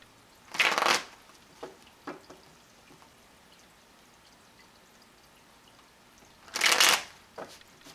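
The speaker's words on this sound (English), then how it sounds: "they're shuffling the cards." Oracle cards being shuffled by hand, two loud riffling bursts near the start and end with a few soft card taps between, close and alone with no talk.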